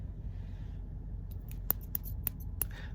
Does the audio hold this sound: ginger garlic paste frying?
no